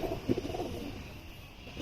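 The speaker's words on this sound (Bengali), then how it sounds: "পুরান জাতের লাল মাকড়া কবুতর" An old-breed red pigeon coos softly nearby, a few low murmuring calls early on that fade into quiet ambience.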